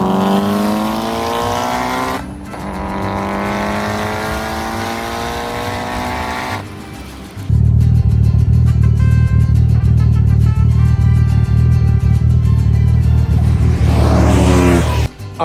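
A Mitsubishi Evo 5 street races a Toyota Supra, its engine revving hard through rising gear pulls, then a sustained loud roaring drone close to the microphone, with a brief break between runs.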